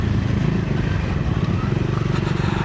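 A Triumph Scrambler 400X motorcycle riding over rough, poorly surfaced roads in India, with a steady loud engine drone and wind rumble throughout the short stretch.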